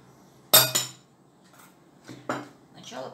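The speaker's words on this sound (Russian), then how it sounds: "Сначала предварительно помешаем, чтобы растворился мед в уксусе." A metal spoon knocks and scrapes against a bowl while stirring a honey and vinegar mixture, giving a few sharp clinks with quieter scraping between, close up and without talk.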